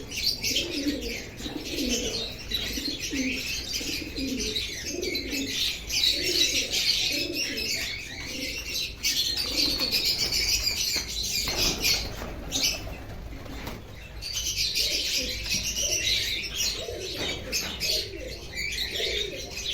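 Satin pigeons coo repeatedly in low, rhythmic bursts inside their new loft, with chirps, wing flaps and soft rustling mixed in, heard up close.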